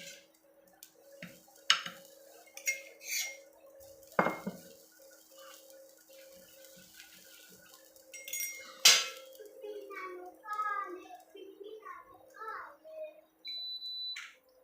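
Coarse peanuts roasting in a pan, stirred with a metal utensil that clinks and scrapes in irregular bursts at close range, with faint voices in the background.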